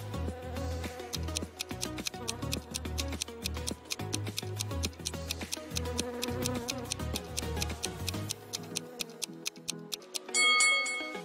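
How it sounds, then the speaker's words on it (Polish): Wasps swarm around a nest that a woman has stepped on, with a dense, steady buzz and rapid clicking, ticking sounds throughout and no voices. "Kobieta nastąpiła na gniazdo os. Owady były wszędzie."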